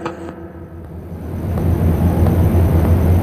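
A car in a children's alphabet cartoon, a low engine rumble that builds and grows louder as it seems to approach, heard alone without voices.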